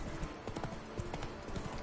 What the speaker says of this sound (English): It's the horse that's stepping,